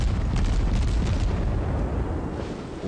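Naval gunfire and shell explosions in World of Warships, a continuous heavy rumbling roar of booms and blasts that stays loud throughout, gradually easing toward the end.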